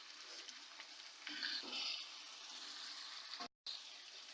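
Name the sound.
chicken liver and pota frying in a pan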